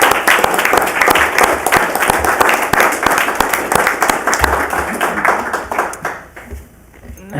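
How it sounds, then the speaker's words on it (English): An audience at a city council meeting claps steadily for several seconds, a dense patter of hands that thins and fades out near the end. "Now, this is where you are allowed to clap."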